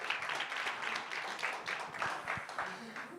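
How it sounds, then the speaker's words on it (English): A workshop audience claps in a short, fairly soft round of applause, with a speaking voice partly over it. "Yes, another round of applause."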